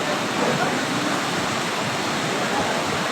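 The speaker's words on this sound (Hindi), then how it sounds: "ये पानी का बहाव चेक करें, प्रेशर चेक करें कितना तेज़ है।" Flooded river water in Balakot rushes with a loud, steady, broadband roar, close and unbroken throughout, with no talk over it.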